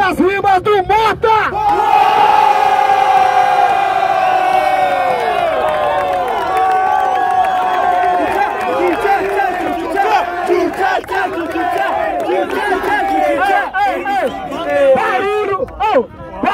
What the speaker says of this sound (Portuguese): Barulho pras rimas do Mota!